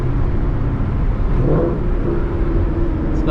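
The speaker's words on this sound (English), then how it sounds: "Prochargers just sound like straight jets." A Procharger-supercharged Ford Mustang engine rumbles close by with a steady, loud, low drone and a faint whirring whine over it, lasting a few seconds.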